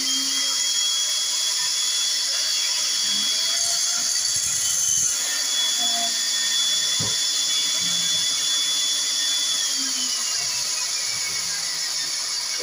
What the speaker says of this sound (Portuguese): com a esmerilhadeira eu rebaixo dois lados da peça